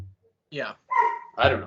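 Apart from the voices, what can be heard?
dog barking upstairs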